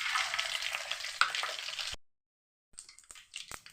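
Mustard seeds frying in about 150 grams of hot oil for a chicken curry, a dense bright crackling sizzle that cuts off abruptly, then resumes more faintly with a few sharp pops.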